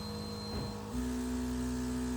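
A mini 3D vacuum heat press switches on with a beer stein inside, a faint mechanical hum that shifts to a steadier, stronger drone partway through, with no talking.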